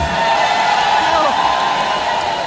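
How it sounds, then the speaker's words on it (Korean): A crowd at an outdoor trot concert beside the Mungyeong cable car cheers and claps in a steady, dense wash of noise, with a loud voice carrying over it throughout. "수고해 주신 DMC 분한테도 큰 박수 한번 해주시겠습니다"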